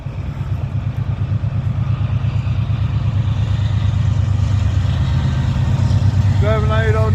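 Union Pacific and Norfolk Southern freight train locomotives draw near through Abbeville, their diesel engines a loud, steadily throbbing rumble that builds over several seconds, with a horn blast sounding at the end.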